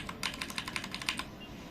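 Quick run of clicky keystrokes on Otemi Blue mechanical switches in a hollow-sounding, non-gasket-mounted keyboard, about a dozen crisp clicks in fast succession, close and clear against a quiet background.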